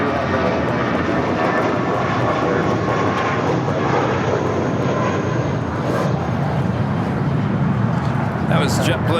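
A JetBlue Airbus A320 departs LAX bound for Salt Lake City, its engines producing a loud, steady roar that fills the whole stretch with broadband rumble and hiss. Voices talk over it throughout.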